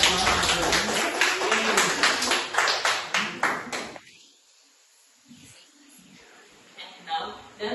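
Classroom applause for a winning student group, a burst of claps lasting a few seconds over a busy room with voices, then falling quiet before a few scattered taps.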